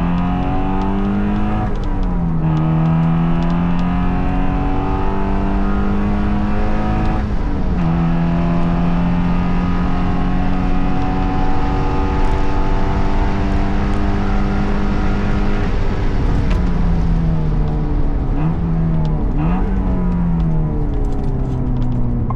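A Porsche fitted with bigger brakes, larger discs and thicker anti-roll bars drives and accelerates, its engine note climbing through repeated gear changes with loud, continuous rumble close by throughout.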